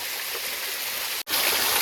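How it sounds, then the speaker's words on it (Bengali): Water from a waterfall in Tripura pours in a steady, bright, hissing rush, close and continuous apart from one split-second dropout. "ওই তো ঝর্ণাটা পুরাটা ঝর্ণা"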